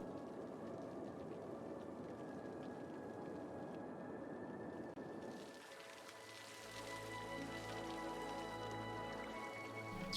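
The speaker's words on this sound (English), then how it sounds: "It's very rainy." Steady rain in the video game Cities: Skylines patters and hisses continuously, then shifts to a lower rumbling ambience with a faint tonal hum underneath.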